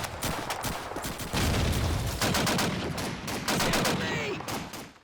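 A BAR rifle fires in Call of Duty 2, bursts of rapid, loud automatic gunshots rattling in clusters with brief pauses and echoing battle noise, ending as the shooting trails off.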